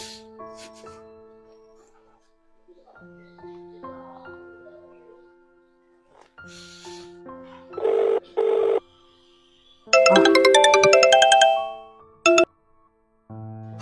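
A telephone rings in a short film, a melodic electronic ringtone starting faintly under background music and swelling into loud bright bursts near the end, with a brief talking voice.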